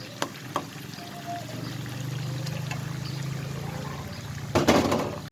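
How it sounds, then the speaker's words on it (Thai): Shredded pork frying in a pan while being stirred, a steady sizzling hiss with a few clinks of the utensil and a louder scrape near the end. "เราทอดไปเรื่อยๆก่อน คนไปด้วยนะคะ"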